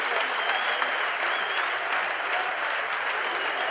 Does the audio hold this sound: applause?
yes